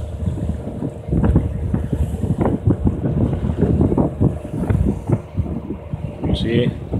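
Strong gusting wind buffets a vessel riding at anchor off Saudi Arabia in a 17 to 20 knot blow, a loud continuous roar of wind across the microphone with rushing water and swell beneath, no voices.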